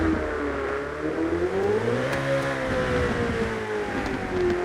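A Ferrari F8 Tributo engine in GTA 5, played with a steering wheel, revs up and settles with a smooth rising and falling tone, loud and close, with no talking.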